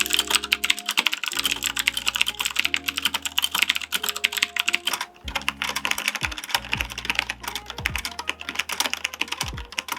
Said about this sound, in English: the typing sound is from my Rymec keyboard with the brown switches